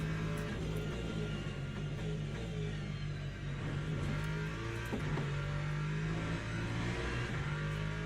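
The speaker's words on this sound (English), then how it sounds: "we got hypercars coming through" Race hypercars in Le Mans Ultimate at Monza sweep past on track, a steady loud engine drone with rising and falling pitch as cars come through, no talk.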